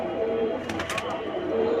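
Silver pankhi pigeons coo softly and continuously nearby, with a few brief sharper sounds mixed in over steady background noise.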